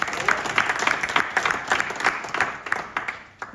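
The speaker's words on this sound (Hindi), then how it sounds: "एक बार लविता जी के लिए दोबारा से तालियां" Sustained applause from an audience at a community service presentation, many hands clapping in a dense, steady wash that continues throughout.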